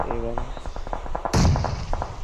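Gunfire in a PUBG-style mobile battle royale during a 4v4 esports fight, a sharp burst of shots landing mid-clip over continuous game audio, with a commentator talking throughout.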